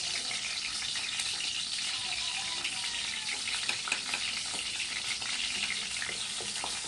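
Garlic and onions fry in a hot pan with a bright, crackling sizzle that holds steady throughout, punctuated by faint stirring clicks and scrapes.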